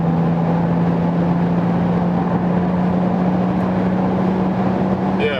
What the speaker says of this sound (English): 230 kilometers per hour, now I have to brake a little bit.